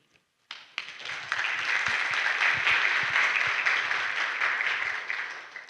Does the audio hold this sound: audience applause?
yes